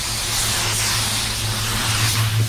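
Spray gun laying a control coat of candy red paint, a continuous loud airy hiss of atomized spray, close and steady with slight swells in intensity.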